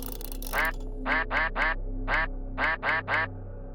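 Repeated cartoonish duck quacks from the puzzle game Forgotten Hill Disillusion, seven loud, evenly spaced quacks in two quick groups over a low steady game hum, with no talking.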